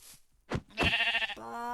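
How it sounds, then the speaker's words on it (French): Sheep in the game Minecraft bleat in a few short, wavering calls that sound close and clear against a quiet background. "Ah, il y a des moutons."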